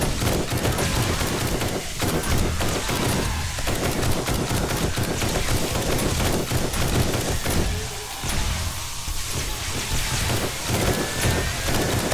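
Sustained automatic gunfire in the zombie survival game 7 Days to Die, a dense, continuous barrage of rapid shots rolling on without pause at close range.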